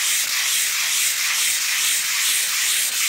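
Sandpaper rubbed by hand over varnished wood before a fresh coat of varnish, a steady close, continuous scratchy hiss with slight back-and-forth swells in loudness and no pauses.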